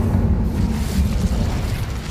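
Incendio fire spell cast in the video game Hogwarts Legacy, a steady roaring, rumbling blaze of flame that holds at a constant loud level for about two seconds with no talk over it.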